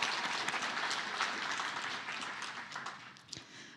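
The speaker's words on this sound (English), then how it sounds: "if we can give them a round of applause" Audience applause at an agriculture conference breakfast, steady clapping from a room of attendees that gradually fades, heard at a moderate distance and fairly quiet.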